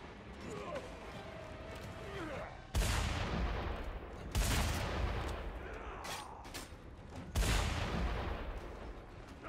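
Gunfire in the video game Mad Max comes as several loud, close bursts over a continuous rumbling game soundscape, with a brief voice between.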